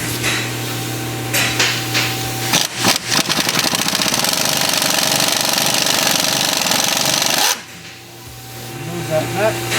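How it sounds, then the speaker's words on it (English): A 3/8-inch impact gun with an 18mm socket hammers at the sway bar nut on a 2007 Chevrolet Equinox. It gives a loud, rapid rattling burst of several seconds, then cuts off sharply over a steady background hum. "An 18mm socket, and again 3/8 impact gun."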